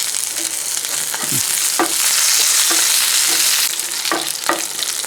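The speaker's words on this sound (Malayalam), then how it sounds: "രണ്ട് തണ്ട് കറിവേപ്പില അതുകൊണ്ട് ഒന്നിട്ട് കൊടുക്കുക" Curry leaves sizzling and spitting in hot oil while a tempering is made for a cucumber curry, a steady loud frying hiss with scattered pops and the scrape of stirring.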